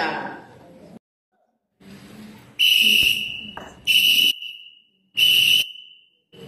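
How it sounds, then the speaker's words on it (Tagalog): A Girl Scout danger alarm signal played on a whistle during basic scouting training: three loud, sustained shrill blasts separated by short pauses, with breathy noise between them and brief talk at the start. "danger alarm, look out."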